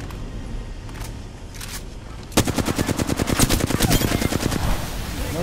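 Rapid automatic weapon fire in the Apex Legends shooter game, starting abruptly after quieter sporadic shots and running as a fast, loud, continuous burst to the end.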